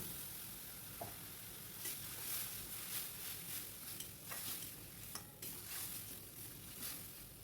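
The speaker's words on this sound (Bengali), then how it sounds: "মশলা করে রেখেছি আদা রসুন টমেটো আর কাঁচা লঙ্কা দিয়ে আর একটু জিরে গুঁড়ো দিয়ে ওই মশলাটা এবার আমি ঢেলে দেব" A spice paste of ginger, garlic, tomato, green chilli and cumin powder poured into a hot pan, giving a steady sizzle with faint scraping stirs and a few soft utensil knocks.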